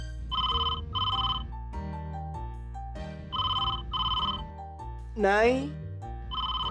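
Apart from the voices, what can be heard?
telephone ringing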